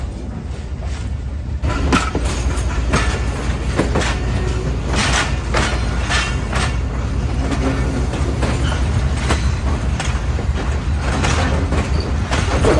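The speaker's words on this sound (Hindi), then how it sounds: "फाइनली तकरीबन 5 साल बाद के एक्सप्रेस निकल चुकी है पेशावर के लिए कराची सिटी रेलवे" The Khushal Khan Khattak Express pulls out of Karachi City railway station bound for Peshawar, a loud, steady rumble of rolling railcars with repeated clicks and clacks of wheels over rail joints throughout.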